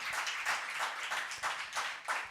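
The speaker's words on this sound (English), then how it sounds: "Can we have a huge round of applause for all our speakers?" Audience at a literature festival session claps for the speakers, a short burst of fairly close, rhythmic applause with distinct individual claps.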